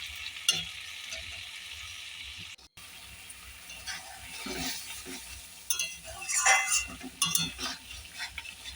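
Figs, boiled beforehand with salt and turmeric, cook in a pan after a little water is added, giving a quiet, steady sizzle with occasional stirring scrapes.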